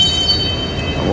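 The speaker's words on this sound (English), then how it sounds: "Here's the end of the train." Tail end of a freight train rolling past on the rail line at Fremont, Nebraska, a steady close rumble and clatter of railcars throughout with a faint high ringing tone above.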